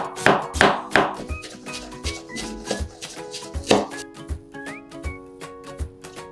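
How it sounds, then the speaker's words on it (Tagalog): A knife chopping half a head of cabbage into small pieces on a cutting board, a quick series of sharp, close thuds in uneven bursts, with a softer run of taps near the end. "hiwain natin ng maliliit ito"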